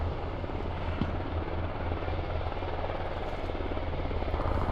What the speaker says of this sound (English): TLG chopper on fire, flying over NORAD ground station.